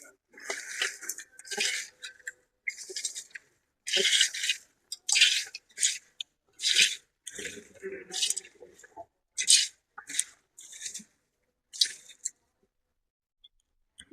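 Curry ingredients, dried fish and oil, are mixed by hand, making wet squishing and squelching in short repeated bursts, close and clear, with a voice speaking between them.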